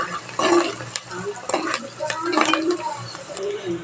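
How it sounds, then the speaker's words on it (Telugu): Vegetable curry with curry leaves and turmeric being stirred in a pan, a spoon scraping and clinking against the metal over a soft sizzle, close and steady with faint voice in the background. "ఇందులో కాస్త పసుపు వేసుకున్నాం. ఒకసారి మిక్స్ చేసుకున్నామండి."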